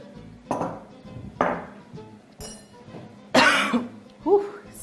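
Someone coughs several times while cooking a vegan potato and pea curry with spices in a pan, the coughs sharp and close, spaced apart, with faint kitchen clinks between them.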